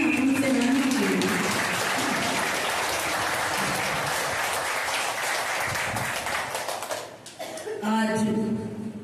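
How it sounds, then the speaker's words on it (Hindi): Loud, sustained applause from a large crowd honoring freedom fighters at a public event, steady clapping that thins out near the end with some chuckling and voices rising over it. "तो एक बार जोरदार तालियां हम सेनानियों के लिए।"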